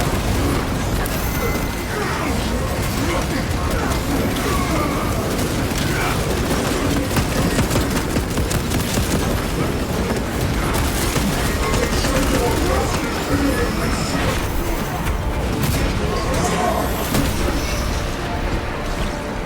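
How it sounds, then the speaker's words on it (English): Frag grenade blasts and dense gunfire from the Warhammer 40,000: Space Marine 2 video game, a continuous loud barrage of shots and crashing impacts with voices mixed in throughout. "Frag grenade deployed."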